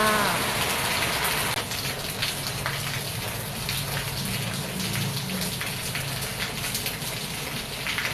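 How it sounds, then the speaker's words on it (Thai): Rain patters steadily outdoors among trees, a continuous broadband wash of drops, fairly loud and close throughout. "น้องฝนก็โปรยปลายลงมา เย็นสบายชุ่มฉ่ำเลยค่ะ"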